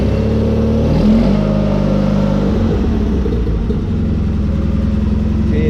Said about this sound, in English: I love the sound of these old John Deere tractors.